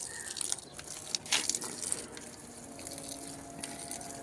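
Water pours and splashes onto potted garden plants, including a champak tree, in an uneven, gushing flow with brief surges, fairly close and with no talking.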